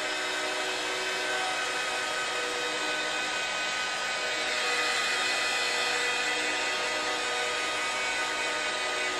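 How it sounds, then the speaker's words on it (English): A heat tool blows steadily to dry paint on a concrete surface, a loud continuous whooshing hiss that holds even for the whole stretch with no talk over it. "I kind of wave my heat tool around the whole surface evenly so I can get it nice and dry all over at an even rate."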